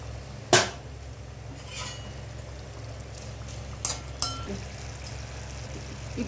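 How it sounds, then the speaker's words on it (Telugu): Water is poured into a pan of simmering egg pulusu, an egg curry, with a short splash, followed by occasional clinks of a utensil against the pan over a low background hum. "ఇప్పుడు కొద్ది వాటర్ వేసాం కదండి గుడ్లలో."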